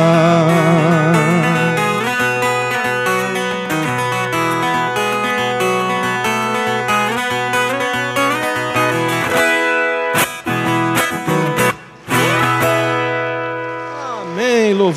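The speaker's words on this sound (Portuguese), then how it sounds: "esse é o som da viola caipira" Viola caipira, the Brazilian ten-string folk guitar, played as a bright plucked melody with sustained ringing notes and chords, loud and close, closing on a few sharp strums and a final ringing chord.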